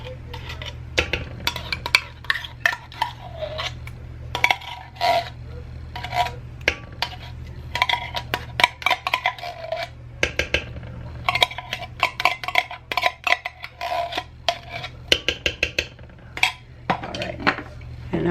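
Parmesan, sharp cheddar and canned cheddar cheese are stirred together in a bowl, with irregular scraping, clinking utensil strokes and brief pauses between bursts.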